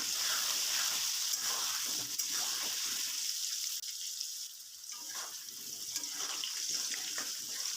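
Potatoes and carrots fry with salt and turmeric in a pan over a medium-low gas flame, a steady close sizzling hiss running throughout with no talk.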